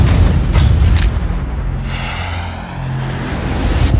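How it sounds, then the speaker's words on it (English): Mortar fire in the video game Sniper: Ghost Warrior 2, set in urban combat in Sarajevo, comes as a loud, sustained low rumbling boom, with a couple of sharp cracks early on and a rolling roar continuing to the end. "You got mortar fire about 3 clicks north of your position."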